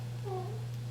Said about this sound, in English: this cat keeps meowing